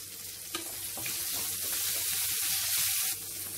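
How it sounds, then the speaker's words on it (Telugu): Green chillies fry in oil in a pan over a medium flame for a village-style bottle gourd chutney, giving a steady close sizzle with a few stirring clinks and scrapes. "వీటిని మీడియం ఫ్లేమ్లో ఫ్రై చేసుకోవాలి."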